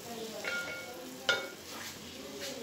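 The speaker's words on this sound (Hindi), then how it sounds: "अब इसको मैं थोड़ी देर के लिए इस तरह फ्राई करती हूँ" A paste frying in a pan for black pepper chicken, with a soft continuous sizzle and an occasional sharper clink or stir, fairly quiet and close.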